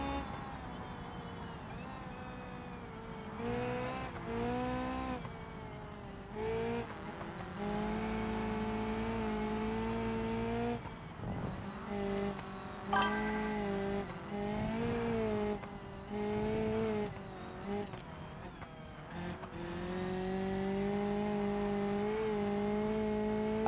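Car engine in a BeamNG driving game, revving and shifting through gears with sustained mid-volume engine drone and occasional tire noise, steady throughout with no talking.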